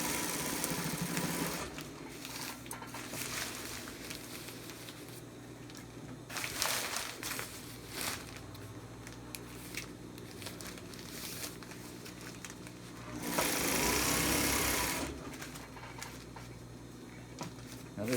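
A sewing machine stitches silicone-coated nylon tarp in bursts of whirring motor runs, with pauses and fabric rustling between them and a louder stretch of steady stitching near the end.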